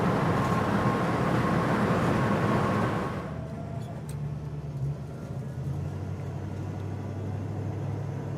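A 1966 Mustang GT coupe with a 289 V8 drives past: a loud, rough engine roar that drops away sharply after about three seconds, leaving a softer, more distant rumble and road noise.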